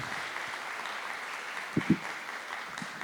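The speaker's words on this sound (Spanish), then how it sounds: "damos por cerrada la conferencia del doctor, ¿verdad? Con un fuerte aplauso." An audience applauds steadily at the close of a philosophy lecture on Kant, with moderate clapping and a couple of brief louder knocks partway through.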